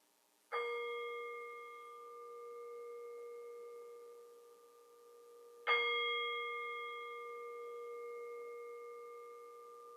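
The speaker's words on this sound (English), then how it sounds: "We will begin our sacred time together by ringing the chime." Two clear chime strikes about five seconds apart at the opening of a fellowship service, each ringing with bright sustained tones that slowly fade in a quiet room.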